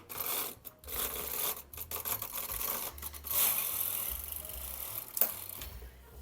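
Knitting machine carriage sliding across the needle bed to cast on stitches, a steady mechanical whirring and clattering with a few sharp ticks, close and continuous with no talking.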